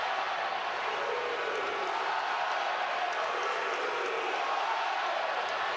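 A college baseball crowd in Omaha at the College World Series, Mississippi State against Virginia, sends up a steady, dense wash of cheering and noise that holds level and loud throughout.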